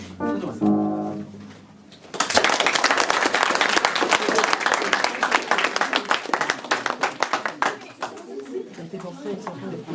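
Applause from an audience after a slam poetry performance by school pupils, a dense burst of clapping that swells in and stays loud and steady for most of the stretch before thinning into scattered claps; a voice speaks briefly just before it starts.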